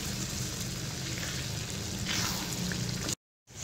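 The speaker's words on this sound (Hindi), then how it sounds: "अब मैं इसे मज़ीद थोड़ी देर पकने के लिए रख दूंगी लो फ्लेम पे" Spicy beef brain masala sizzles in a pan over a low flame, a steady soft frying hiss that runs evenly and then cuts out briefly at the end.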